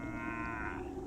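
Cow lowing in the video game Destroy All Humans!, a single sustained moo with rich harmonics, close and loud, filling the whole short moment without speech.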